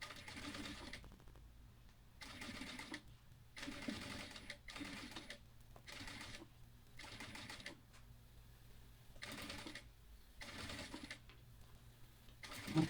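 Stitching plastic for a mini backpack, a sewing machine runs in repeated short bursts of rapid mechanical chatter with brief pauses between them, close and fairly quiet.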